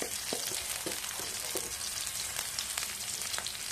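Minced garlic sautéing in oil in a pan, a quiet continuous sizzle dotted with soft crackles and light stirring taps, with no voices.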